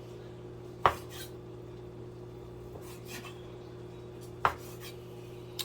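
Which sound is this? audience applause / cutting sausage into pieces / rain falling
cutting sausage into pieces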